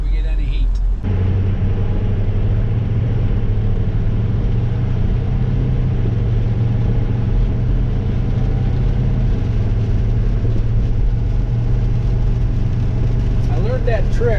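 A Ford F-350 truck just back from a brake job drives along, its steady low engine rumble and road noise running continuously and close throughout, with faint talk mixed in beneath.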